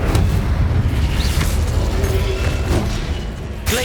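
An Incendio fire spell blast in Hogwarts Legacy, a loud booming whoosh of flame that roars steadily and fades toward the end, with a short sharp burst right at the close.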